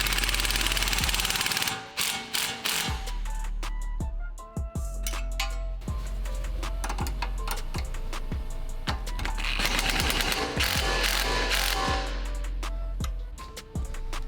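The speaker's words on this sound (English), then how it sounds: "Now we can tighten down the two 12mm bolts, holding down the brake line and the ABS harness." A ratchet tightening two 12mm bolts on the brake line and ABS harness bracket during a Subaru WRX coilover install, rapid close clicking bursts broken by short pauses, loud and without speech.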